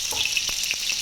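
Chicken pieces fry in a pan with a steady close crackling sizzle, with brief stirring scrapes and pops mixed in.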